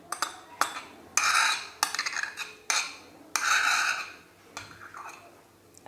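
A spoon stirs mango puree for kulfi in a bowl, giving a run of loud, separate clinks and scrapes against the sides at uneven intervals, close by.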